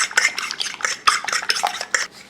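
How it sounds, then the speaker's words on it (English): A fork whisks two eggs with a little oil in a bowl, producing quick, rhythmic clinking and scraping strokes, close and clear without speech. "you use a fork to mix the egg and egg yolk together with a little bit of oil there"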